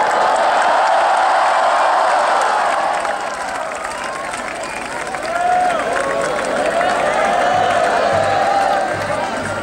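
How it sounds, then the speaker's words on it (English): A crowd cheers and claps in a steady, dense roar as two people depart at a tractor presentation, with shouts and whoops rising and falling across the whole stretch. "cheer on Pramod and Sumran as they leave here"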